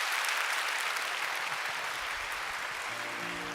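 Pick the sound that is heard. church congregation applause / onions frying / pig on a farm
church congregation applause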